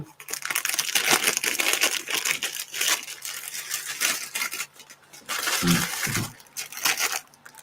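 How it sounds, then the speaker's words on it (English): Crinkly rustling and crunching of a plastic packet of custard cream or bourbon biscuits, close and continuous with louder crackly bursts. "If you hear any rustling, it's we're eating custard creams or bourbon."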